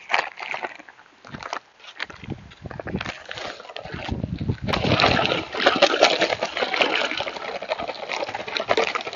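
Dry Sakrete fast setting concrete mix pours from a torn bag into a wet hole, a continuous loud gritty rushing hiss that builds and holds steady, close by.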